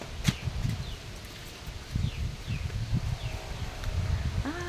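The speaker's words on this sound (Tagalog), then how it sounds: "naririnig niyo yung hangin?" Outdoor wind rumbles and gusts across the microphone in uneven, breathy waves, with light rustling and a few faint bird chirps in the background, and no one speaking.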